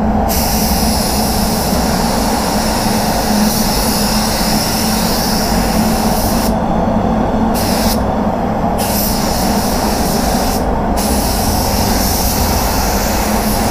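A spray gun lays clear coat onto a Range Rover Vogue bumper, producing a loud, close, continuous hiss that breaks off in three short gaps as the trigger is released between passes.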